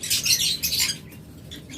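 A large flock of red-eyed lutino lovebirds chirps and squawks in dense, shrill bursts nearby, pausing briefly before more calls.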